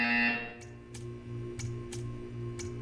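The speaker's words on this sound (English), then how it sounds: "You will hear a buzzer." A buzzer in the Portal 2 video game, a faint steady electronic drone with a low hum underneath and a few soft regular ticks, after a short burst of synthetic tone at the start.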